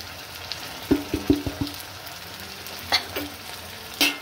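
A spice paste of garlic, ginger and cumin with chilli and turmeric powder fries in a pan over a steady soft sizzle. A handful of sharp spatula clinks and taps land close by.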